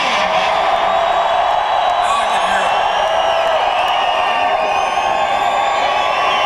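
A large concert crowd in Buffalo, NY in 1997 roars and cheers in a loud, sustained wash of whoops and yelling, steady from start to finish.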